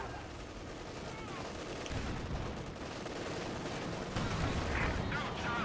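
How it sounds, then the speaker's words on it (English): A machine gun crew fires in a Company of Heroes 2 battle, a continuous rattle of automatic gunfire blended with distant shots, steady and moderately loud under ongoing commentary. "Machine gun crew."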